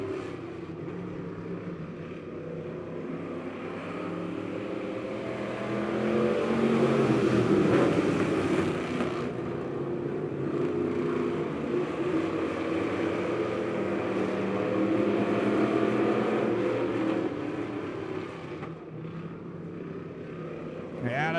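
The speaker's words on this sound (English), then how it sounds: "They're going to be all 5 cars bumper to bumper," Five race cars running bumper to bumper in a speedway heat race at Lebanon Midway Speedway, a steady loud engine roar that swells and fades as they pass, with an announcer talking over it.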